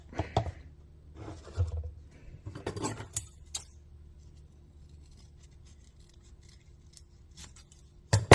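Scissors snip foam seal for a Ford Econoline van's brake light, a few close, crisp cuts in quick succession, then a long quiet stretch before one last snip.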